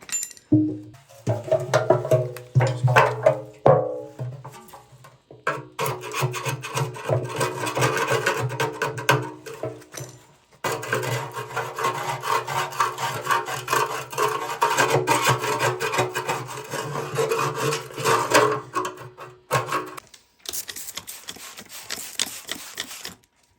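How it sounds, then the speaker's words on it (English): Scaly rust being scraped from the steel fuel tank of a Suzuki TS185 motorcycle: a steady, close rasping scrape in long continuous bursts with short pauses, no talking. "Try to scrape off some of the scaly rust right here."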